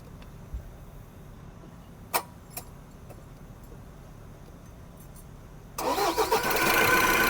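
A few faint clicks and a key-like jingle, then a car engine cranks and catches, running loudly and close for the last second and a half.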